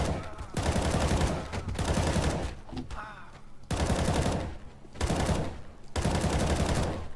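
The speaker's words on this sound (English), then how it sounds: "Obviously I'm going to put the M4. You just try and one tap." Bursts of M4 rifle fire in the game CS:GO, several loud volleys with short gaps between them, close and dominant, with brief quieter stretches in between.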